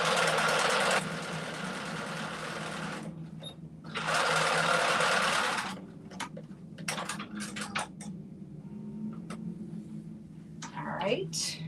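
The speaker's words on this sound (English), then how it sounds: "So I'm just lining it up and stitching both sides together." Two loud bursts from a sewing machine as it stitches interfacing onto a skirt waistband, each a steady whirring run of a few seconds, then fabric handling and rustling while someone speaks quietly.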